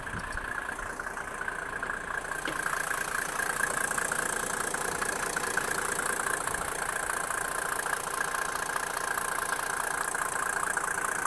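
A warm Mercedes G-Class 460 with a 3.5-litre OM603 turbo diesel sits idling steadily and fairly close, its even diesel clatter and hum continuing unbroken with no voices over it.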